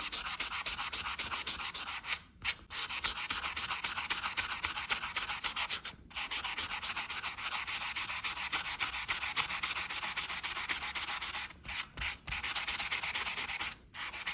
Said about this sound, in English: I like to use a sanding sponge, which is good for getting around all the corners and giving a nice even kind of shine